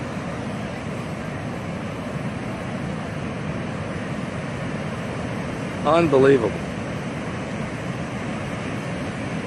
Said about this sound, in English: The seas are roaring.